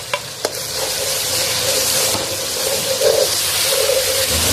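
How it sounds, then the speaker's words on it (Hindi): Garam masala with star anise and bay leaf frying in a pan for Lahori anda chanay, a loud steady sizzle with scraping stirring strokes and light splashes, no talk. "मसाला हमारा अच्छे से भून गया।"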